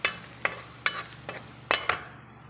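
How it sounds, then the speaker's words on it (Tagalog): Garlic sautéing in oil tinted with annatto powder, with a spatula scraping the pan in a few distinct strokes over a soft, steady sizzle, fairly close. "Naglagay ulit tayo ng mantika. So, nilagyan ko siya ng konting annatto powder guys para may kulay yung ating and then, gisa natin yung bawang."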